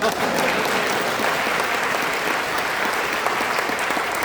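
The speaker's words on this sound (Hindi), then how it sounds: "कविता खत्म हो गई, आप तालियां कब बजाएंगे?" An audience at a Hindi comic poetry gathering claps loudly and steadily, a dense, continuous wash of applause from many hands throughout.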